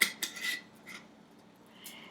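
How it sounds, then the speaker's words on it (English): A lid is set onto a glass sprouting jar in a home kitchen, giving a couple of short metallic clinks and a brief scrape, close and fairly quiet, with no talking. "Put my lid on."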